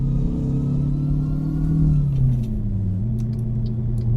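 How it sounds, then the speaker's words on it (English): Detroit diesel engine in a SCOT A2HD truck in American Truck Simulator, a loud, close, low droning rev that sags and settles into a steady lower hum, with faint clicks near the end. "Listen to that Detroit diesel"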